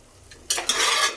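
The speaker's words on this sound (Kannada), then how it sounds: "ಇವಾಗ ಫ್ರೈ ಆಗಿದೆ ಚೆನ್ನಾಗಿ." Mushrooms for a biryani fry in a pan, a faint quiet start giving way to a sudden bright sizzle and stirring scrape that swells loudly midway.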